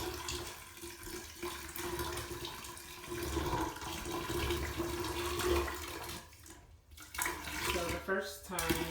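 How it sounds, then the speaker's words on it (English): A gallon of hot water is poured into a shower drain, giving a steady gushing splash that runs for several seconds before breaking off, followed by brief scattered noises. "Pour a gallon of hot water in."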